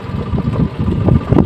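A tractor engine chugs and rumbles nearby while ploughing a field, with uneven throbbing pulses and some wind buffeting the microphone.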